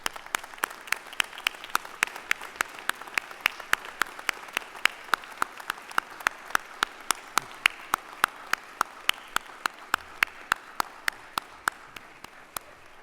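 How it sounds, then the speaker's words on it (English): Ceremony audience applauding their supporters: steady, dense clapping from a large crowd, moderately distant and even in level, with a few sharper individual claps standing out throughout. "give a round of applause for the folks who supported you"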